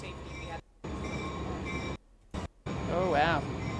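Train passing close by, a loud steady roar of rail cars broken by brief gaps between carriages, with a high wheel squeal rising near the end.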